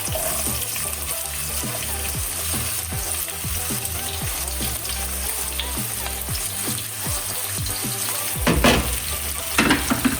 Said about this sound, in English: Now you can hear the sizzling.